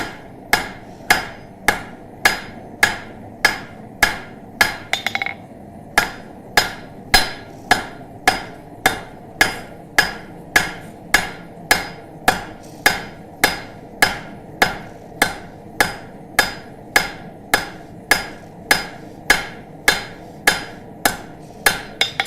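A blacksmith forging hot steel over the horn of an anvil to draw down stem material for a small flower, with loud, evenly spaced hammer blows ringing out close up and alone, one brief pause partway through.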